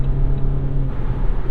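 A 2022 Jeep Compass accelerating while merging onto a highway: steady, loud engine and road rumble heard from inside the cabin, continuous with no talking over it.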